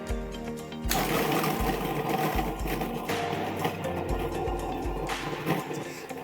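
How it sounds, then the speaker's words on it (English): A food processor whirs loudly and continuously, blending garlic cloves, feta and Greek yogurt, with a motor that starts up abruptly and grinds steadily, its pitch shifting slightly as the contents churn. "2 cloves can just go in because the food processor will smooth them out"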